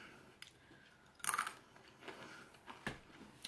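Crunchy, dense cheese-flavored corn stick snack bitten and chewed close up, giving a loud crisp bite followed by a few irregular softer crunches.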